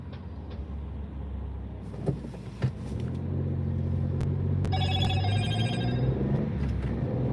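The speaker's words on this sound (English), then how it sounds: "that's my phone just telling me we're live" A phone notification chime rings out as a short series of bright, layered electronic tones over a steady low car rumble, with a couple of soft knocks just before it.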